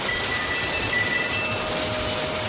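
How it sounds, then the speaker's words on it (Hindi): Large hailstones pelt down during a heavy storm on a hill-country road trip, a loud, dense and unbroken clatter like a hard downpour drumming on a surface, with no one talking. "यहाँ पे एकदम से ही ओले गिरने स्टार्ट हो चुके थे"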